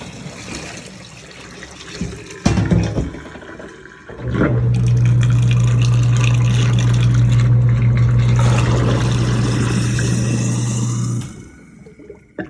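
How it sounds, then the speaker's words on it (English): Water gushes loudly into a sink drain after a clogged-drain repair, a sustained, steady rush lasting several seconds before it tapers off, preceded by quieter handling noises. "We're gonna overflood it with water."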